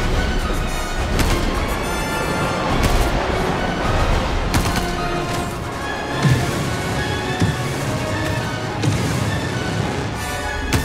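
Dense covering gunfire in a military squad shooter video game, a sustained barrage of overlapping shots, bursts and crashes at steady loud level for the whole stretch, with no clear voices.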